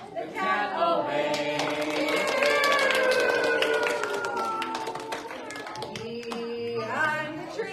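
Hands clap in a quick rhythm along to a children's song, with a voice singing over the claps throughout.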